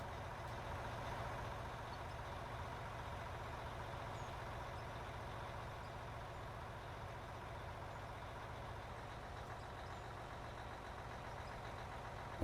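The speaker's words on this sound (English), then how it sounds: "that diesel idling over there sounds really good" A diesel engine idles in the video game Out of Ore, a steady low rumble with a faint rattling throb that holds constant and moderately quiet throughout, with no talk over it.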